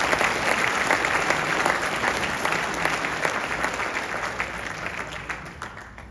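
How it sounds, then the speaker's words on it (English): Audience applause at a physician assistant pinning ceremony, steady dense clapping from a large crowd that holds for several seconds and gradually thins. "So let's have a round of applause."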